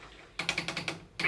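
Button presses on a talking microwave's control panel, a quick run of about six short clicky taps in even rhythm, then a brief pause and one more louder tone at the end.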